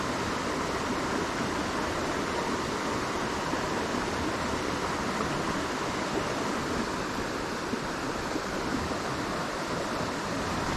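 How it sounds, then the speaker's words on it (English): Small waterfalls and whirlpools on the Water of Leith river produce a steady, dense rushing of water, constant and fairly close with no other sounds standing out. "There's loads of little waterfalls here."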